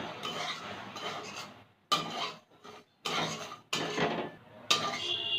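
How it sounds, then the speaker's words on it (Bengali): Semolina dry-roasting in a pan, a spoon scraping and stirring in short bursts of gritty rasping and clinking, with brief pauses between strokes and no talk. "সুজিটাকে আমি হালকা করে ভেজে নেব।"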